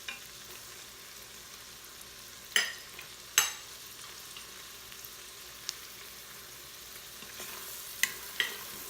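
Shallots and garlic cook quietly in an Instant Pot, a faint steady sizzle broken by a few sharp scrapes and clicks of a utensil stirring the pot.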